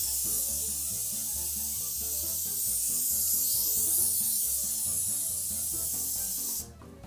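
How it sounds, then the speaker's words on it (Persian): An aerosol spray paint can hisses in one long continuous burst up close, loud and steady for several seconds before cutting off abruptly. "حالا موقع الان نوبت اسپری بازیه"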